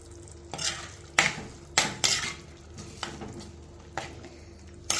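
A spoon scrapes and clanks against a pan in repeated strokes while pineapple pickle sizzles quietly underneath, with no talking.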